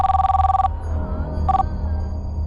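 A telephone rings loudly in a long electronic trill, pauses, then starts a second ring that cuts off quickly.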